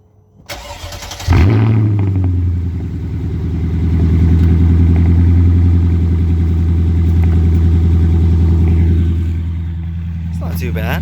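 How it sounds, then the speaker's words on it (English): A Mercedes E500 with a straight-piped exhaust cold starts with a brief crank, then catches into a loud, deep idle. The idle rumbles steadily close by and eases slightly near the end. "I wanted to get a cold start of the new exhaust for you guys to hear"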